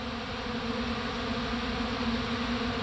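Bees in winter feeding on pollen substitute make a dense, steady buzzing drone close by, unbroken and even in loudness throughout, with no voices.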